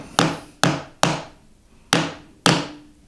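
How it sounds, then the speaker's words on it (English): Five firm wooden taps ring out one by one at uneven intervals as a wooden keepsake box is knocked together around its perimeter, each a sharp, close knock with a short decaying tail. "So just firm taps around the whole perimeter."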